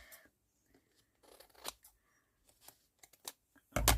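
Scissors trimming an overhanging piece of paper for a woodland fairy craft project: a few quiet, scattered snips and paper rustles, close and soft, then a louder crisp handling noise at the end.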